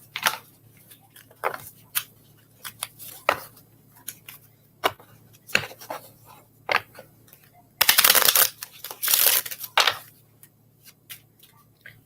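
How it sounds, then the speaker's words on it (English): Mini cards being shuffled up close: a run of soft, crisp taps and flicks, then a brief flurry of rapid riffling, with no talking. "These ones are easier to shuffle."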